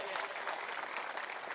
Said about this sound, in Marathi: इतक्या जोरात टाळ्या वाजवा